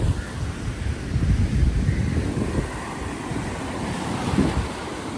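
Steady wind rumbles against the microphone on a beach at sunset while waves wash in low and continuous, with no voices.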